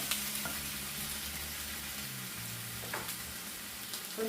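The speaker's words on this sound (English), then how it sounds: "by toasting these up, what I'm doing is I'm making sure all the juices and stuff come out of the tomatoes" Tomatoes toast and sizzle in a pan for green chile salsa, a steady, fairly quiet frying hiss with faint pops and an occasional stir, no talking.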